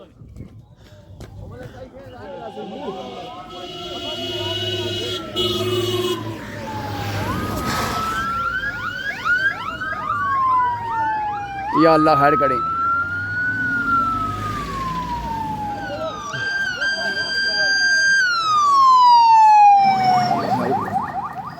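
An ambulance siren wails, rising and falling over several long sweeps while it approaches and passes, loud and close, with voices talking throughout at an outdoor Eidgah in Rawalakot.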